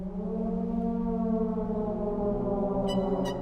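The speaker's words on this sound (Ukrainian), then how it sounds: "де звучать навіть сирени повітряної тривоги" A steady, wailing air raid siren tone with rich harmonics, played within a small-orchestra piece, holds throughout, sustained and even, with faint higher chimes near the end.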